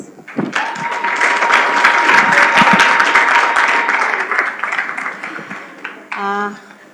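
A crowd at a children's rights charter launch gives a loud, full round of applause that swells, holds for several seconds and then fades, with a voice cutting in at the very end.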